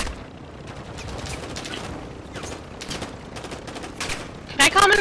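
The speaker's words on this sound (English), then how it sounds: "Oh, they shooting at me in the back." Gunfire in Call of Duty: Modern Warfare II co-op play, a steady rattle of distant automatic weapons and scattered shots under a low ambient rumble, ending with a brighter burst close by.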